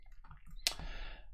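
A single computer keyboard key struck once, a crisp close click over quiet room tone.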